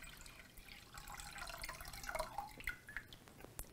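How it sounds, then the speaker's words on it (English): Water poured into a Vevor home water distiller, a soft splashing trickle with small drips, fairly faint and close, without talk. "So pour in that extra water so you have a full load."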